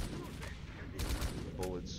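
Sniper gunfire in S.T.A.L.K.E.R.: Call of Pripyat, a few sharp shots cracking through a busy game soundscape, with voices talking over them.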